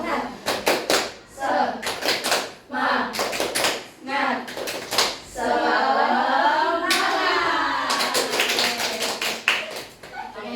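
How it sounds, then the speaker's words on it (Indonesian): A classroom group does a rhythmic tepuk semangat clap, with bursts of unison clapping in patterned beats, close and loud, alternating with chanted voices and a stretch of talk partway through. "Kita tepuk semangat dulu lah biar kalian semangat"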